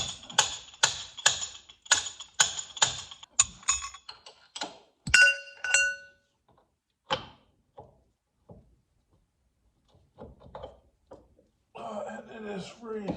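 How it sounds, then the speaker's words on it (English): Steel hammer striking a wrench to drive out a car axle on a 2002–2006 Nissan Sentra, a quick run of about ten sharp metallic clinks for four seconds, then a few scattered taps and knocks, with brief talk at the end. "I'm just taking my wrench and a hammer basically to tap it to push the axle through"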